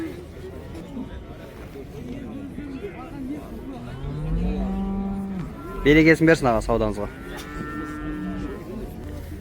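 Cattle and calves low at a livestock bazaar in Taraz, one drawn-out moo rising near the middle followed by a loud, close burst, while someone talks and market chatter carries underneath.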